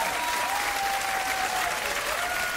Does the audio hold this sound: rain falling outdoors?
no